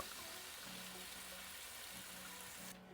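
Swordfish cooks in a pan with dry white wine, a steady, close, dense sizzle and bubbling that runs throughout before cutting off at the end, with no talk.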